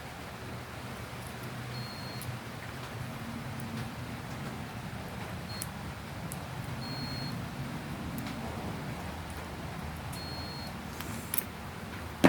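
A multimeter gives short, thin beeps while checking Seismic Audio patch cables for continuity. Four or five brief tones are spaced several seconds apart over a steady low room hum, with no talking.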